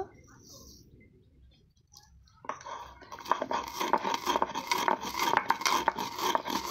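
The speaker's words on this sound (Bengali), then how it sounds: "মৌরিগুলো বেটে নেব" Roasted fennel seeds being ground on a stone, starting quiet, then a close, rhythmic rasping and scraping of stone on stone with repeated back-and-forth strokes, no talk.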